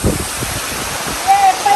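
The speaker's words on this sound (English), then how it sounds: "I have never seen such a waterfall" Broad, steady roar of the Napuru waterfall in Arusha, Tanzania, heard outdoors with wind buffeting the microphone, while a voice speaks over it near the start.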